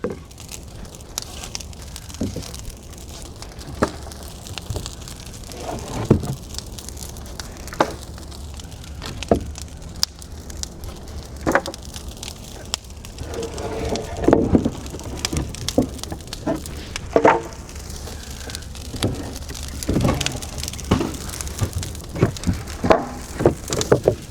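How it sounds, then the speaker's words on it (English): A brush pile burns outdoors in a light drizzle, giving off scattered irregular crackles and pops over a soft, steady hiss. No one speaks. "it should burn nice and slow, especially with this drizzle"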